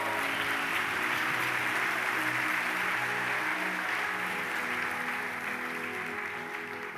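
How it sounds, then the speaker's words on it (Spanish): A church congregation applauds during a sermon, a dense, steady wash of clapping that stays full and loud throughout before easing slightly at the end, with sustained tones from music or voices under it. "Aplauda al Señor."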